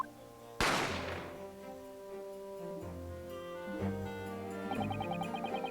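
A single sharp gunshot cracks out loudly in The Great Ace Attorney Chronicles, a sudden burst over sustained background music that rings on as the music continues and swells.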